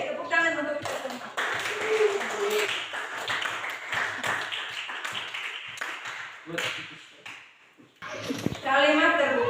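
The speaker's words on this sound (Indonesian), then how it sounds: "tepuk tangan untuk kita semua" Scattered hand clapping from a group in a class, fairly faint and uneven, broken up by a teacher's speaking voice at the start and end.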